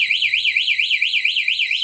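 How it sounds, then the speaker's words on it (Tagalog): Two-way alarm fitted to a Raider 150 Fi motorcycle wails alone with a steady, rapidly warbling electronic siren tone, loud and close, repeating evenly throughout. "Ito yung sa alarm niya."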